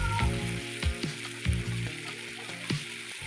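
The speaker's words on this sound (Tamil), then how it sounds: "பட்டர் பீன்ஸ், ஒரு உருளைக்கிழங்கு இதையும் போட்டு அரைவேக்காடு வேகிற வரைக்கும் நல்லா வதக்கணும்" Butter beans and potato sautéing in a pan, a soft sizzle under a series of clattering, ratchety knocks from stirring, repeated roughly every half second, close by and without speech.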